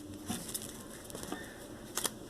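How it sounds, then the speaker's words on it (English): Tarot cards being shuffled by hand, soft papery riffles and slaps in a few quick bursts over a faint room hum, close and fairly quiet. "now I'm going to start shuffling."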